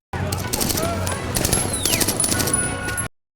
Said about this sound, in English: He picks up a nearby rifle and sprints towards his enemies, shooting like a crazy person.